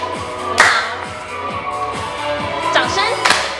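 Hands clap a few times, sharp and close, during a seniors' aerobics class in Pingtung, spaced over backing music while an instructor's voice talks.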